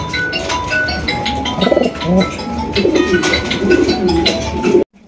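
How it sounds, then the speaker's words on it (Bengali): A pair of Lahori pigeons coo softly amid a busy pigeon market, with other birds chirping around them and a brief silence at the very end. "মাশাআল্লাহ দেখেন একজোড়া লাহোরি কবুতর, অরিজিনাল লাহোরি কবুতর"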